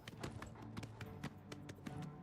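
Horse hooves from Oblivion Remastered video game riding, a quick uneven clip-clop of sharp hoofbeats on ground, fairly close and moderately quiet over a low steady background.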